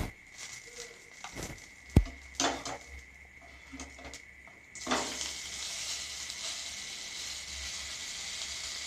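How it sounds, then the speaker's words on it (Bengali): Pieces of food sizzle in oil in a pan, with a few clinks and stirring knocks early on, then a steady, brighter frying hiss takes over and holds to the end, fairly quiet and close. "প্রত্যেকটা আমি এইভাবেই ভেজে নেব।"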